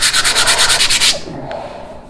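Wood is sanded by hand with 80 grit sandpaper in about ten quick, rhythmic back-and-forth rasping strokes, loud and close, then the scraping stops and a quiet room follows.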